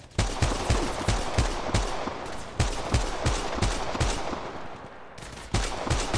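Rapid automatic gunfire in the mobile game Apex Legends Mobile, sharp repeated shots in steady bursts with brief pauses, loud and close throughout.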